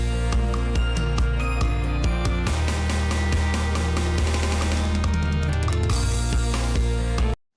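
A full unmastered gospel song mix with steady drums, bass and keys, sitting at a modest, unpushed level and ending abruptly.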